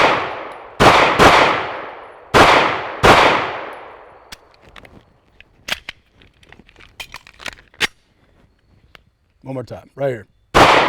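Slow, spaced staccato pistol shots ring out in a training drill, about five sharp loud bangs with ringing decay, then lighter clicks and someone speaking briefly before one more shot.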